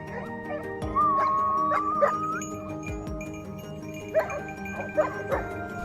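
Hunting dogs on a mountain trail yip, bark and whine in excited bursts, several sharp barks standing out over a steady humming tonal background, at a moderate distance.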